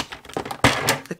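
Scissors cut the corner off a handmade paper triangular treat box, a short close crunching snip of about a second, fairly loud, with no voices.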